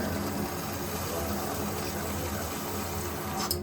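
Shower water running indoors, a steady close hiss and patter that stays even throughout, with a brief clatter near the end and no talk.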